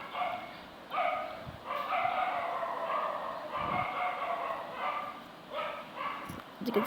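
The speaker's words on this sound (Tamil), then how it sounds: "வெளியே நாய் வேறு குலைச்சுனே இருக்குது." A dog barks outside in a series of loud, separate woofs and yips at irregular intervals, fairly close, with faint talk beneath.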